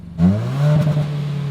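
A 2019 Kia ProCeed revs its engine up from near silence to a loud, rising drone, heard close and alone as the car accelerates.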